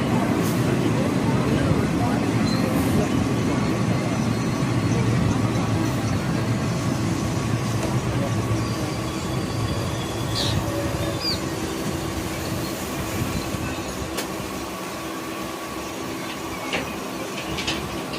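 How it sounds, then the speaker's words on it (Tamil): Passenger train 06190 pulls into Papanasam railway station, a steady loud rumble of carriages and wheels with faint rail squeals and clanks, the noise easing slightly as it slows, while a voice talks over it. "பாருங்கள், இப்போ நம்ம பாபநாசம் ரயில் நிலையத்தில் வந்துடுச்சு."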